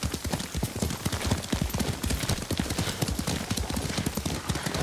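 Horse hooves clip-clop steadily in a brisk, rhythmic riding gait in the samurai game Ghost of Tsushima, close and continuous, with a faint whinny hinted and some game ambience beneath.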